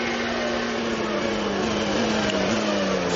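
Williams Renault Formula 1 engine at Monza heard from onboard, a loud high steady whine holding a near-constant pitch through a short stretch, with no talk over it.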